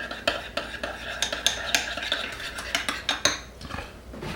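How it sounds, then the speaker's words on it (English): Horseradish sauce and sour cream are stirred together in a bowl, a quick rhythmic series of close utensil clinks and scrapes against the dish, no talking. "We're going to use about equal parts of horseradish sauce and sour cream. And we're going to mix that together."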